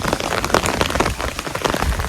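Heavy rain pours steadily in a village, a dense close patter of drops striking surfaces without pause and with no voices.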